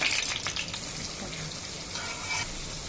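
Potatoes frying in hot oil until reddish golden, a steady close sizzle with bright crackling spatters near the start, no voices.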